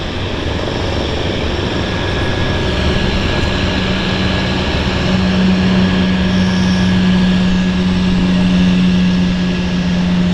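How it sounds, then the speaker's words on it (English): A Cessna Caravan floatplane taxis in on the water at Vancouver Harbour, its turboprop engine giving a loud, steady drone and a rising tone that holds throughout with no voices. "Caravan taxiing in, floating in, I should say."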